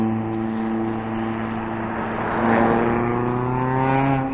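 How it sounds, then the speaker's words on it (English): Steady road traffic on a snowy street drones close by, a continuous engine hum that swells a little partway through as a vehicle draws nearer, with no voices over it. "Traffic's noisy today too."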